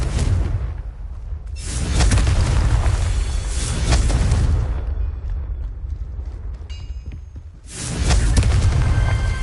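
Booming blasts from the Confringo curse in Hogwarts Legacy roar out in three long, loud bursts, each a dense rumbling wash that fades before the next erupts.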